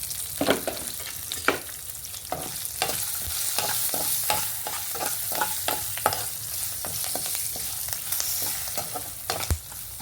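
Mango rice tempering frying in a pan, a bright continuous sizzle broken by repeated scraping stir strokes and occasional sharper knocks of the spoon against the pan.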